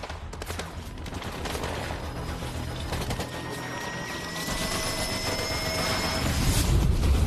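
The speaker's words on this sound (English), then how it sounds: "Where are the shots coming from?" Rapid bursts of gunfire crackle continuously, a dense fusillade of overlapping shots with tonal whines running through it, loud and sustained with no voices.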